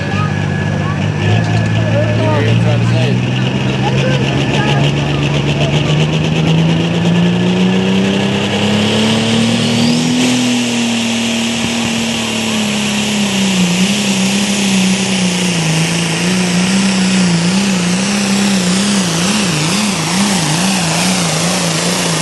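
A John Deere 466 six-cylinder diesel tractor engine, rated around 100 to 125 horsepower, runs with a steady loud drone whose pitch rises and wavers, under constant outdoor noise and talking.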